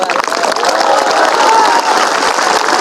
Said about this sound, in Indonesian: Tengok orang ini ragu-ragu tepuk tangan.